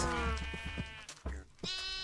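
Sheep bleat in Minecraft (GregTech: New Horizons modpack), several wavering bleats in a row, close and clear with a low steady game hum underneath and no talking.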